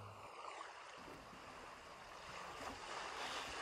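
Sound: waves on a beach

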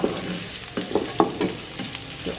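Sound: oil heating and sizzling in pan

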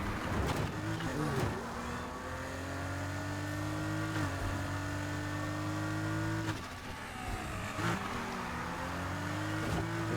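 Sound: Nissan Fairlady 240Z car driving in video game Need for Speed Heat

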